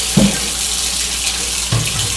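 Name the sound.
hot water running from kitchen tap to wash knives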